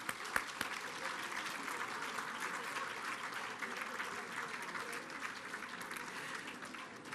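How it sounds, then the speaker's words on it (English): An audience at a gala at the Halls of St George applauds steadily, dense sustained clapping filling the room at moderate loudness throughout. "Give them a big round of applause."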